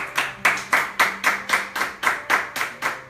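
A church congregation claps together in a steady, even rhythm, about three claps a second, close and loud, and no speech is heard.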